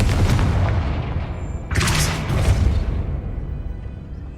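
A Confringo spell bursts in Hogwarts Legacy, a sharp explosive boom with a bright crackling blast that rolls into a lingering rumble over a steady low background drone, no voices.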